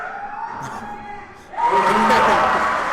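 A crowd at a JV high school basketball game between the Landrum Cardinals and Chapman Panthers breaks into a loud, sustained chant that swells in abruptly after a quieter stretch of arena hum.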